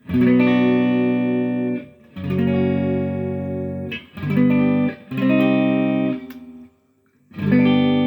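A Chapman ML3 Pro Traditional electric guitar plays four sustained chords through its V-Mod pickups, each ringing out before a brief gap, loud and close.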